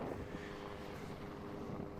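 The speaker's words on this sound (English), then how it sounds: "Now let's watch some Apache helicopters coming in." Apache helicopters flying in, a steady broadband roar that stays loud and even throughout, mixed with gusty wind buffeting the microphone.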